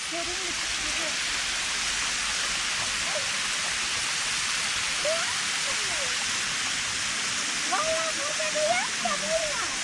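Natural waterfall at Pamukkale roaring as a steady, dense rush of falling water, loud and continuous throughout, with people's voices talking faintly beneath it.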